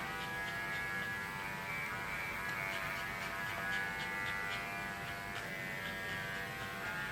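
An electric clipper shaves hair from a dog's ear, a steady high buzzing hum that runs unbroken and moderately quiet for the whole stretch.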